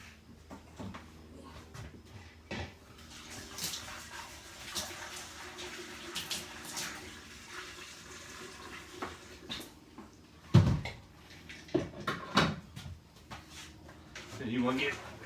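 Star San sanitizer is poured into a beer keg and sloshed around, heard as intermittent liquid splashing and hollow metallic knocks of the keg, louder bursts near the end, with someone talking over it.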